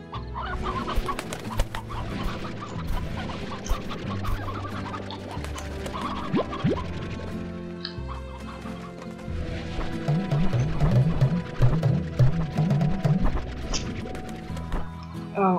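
Chickens cluck in the Slime Rancher video game, short repeated clucks mixed with game music, thumps and other effects, moderately loud.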